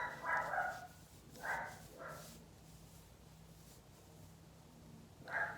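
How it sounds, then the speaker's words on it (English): A dog barks a few times from a distance in a quiet house, short separated barks with a final one after a pause. "where's she barking at?"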